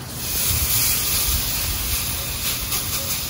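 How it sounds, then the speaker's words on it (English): A ribeye steak searing on a hot Masterbuilt grill grate at about 600 degrees gives a continuous loud hiss, close and unbroken throughout. "Let it sear for a good minute, and then we'll rotate it."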